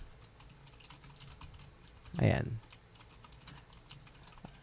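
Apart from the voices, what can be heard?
typing on computer keyboard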